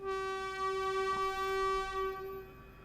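Train Sim World 4 video game train sounding its horn on the Edinburgh to Glasgow line: a steady, loud multi-tone horn blast held for about two seconds, then fading, with a low engine rumble underneath.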